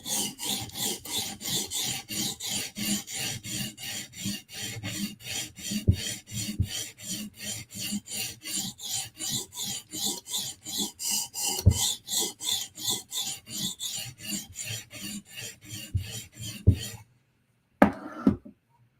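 A Medford knife with M390 steel is drawn over a sharpening stone in quick, regular rasping strokes, about three per second, close and clear, ending in a pause and a couple of light clicks.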